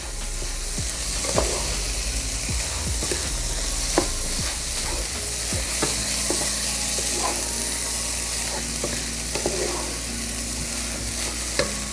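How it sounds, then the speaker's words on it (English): Risotto ingredients are stirred into pan juices in a home kitchen, with a steady close sizzle of frying and repeated scraping spoon strokes against the pan, and no talking. "Stir that in. Kind of get it mixed in with all of the wonderful juices."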